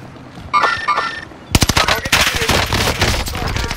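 Machine gun fire in a video game, a loud sustained burst of rapid automatic shots that starts abruptly after a brief electronic beeping tone and keeps rattling to the end.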